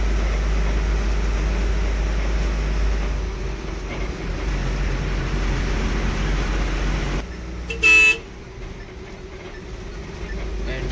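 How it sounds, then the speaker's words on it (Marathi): An NWKRTC Tata BS6 ordinary interstate bus rolling into Sankeshwar bus stand, a constant low engine and road rumble throughout, broken near the end by one short loud horn blast. "आणि आता आपण पोचलोय संकेश्वर बस स्टँड."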